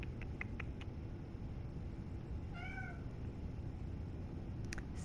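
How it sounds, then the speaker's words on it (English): A cat meows once, a short rising-falling call heard over steady background noise during an Elden Ring gaming session, fairly faint and not close. "my cat is meowing at me right now"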